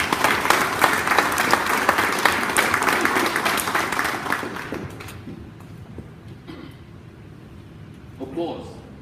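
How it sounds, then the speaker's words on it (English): Audience applause at a Masonic lodge installation ceremony, a dense burst of clapping for about five seconds that quickly thins and dies away, followed by quiet room noise and a brief voice near the end. "Please give them a big round of applause."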